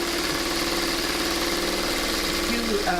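A sewing machine running steadily as it stitches quilt fabric, a continuous close mechanical whir with a fast even rhythm and no pauses.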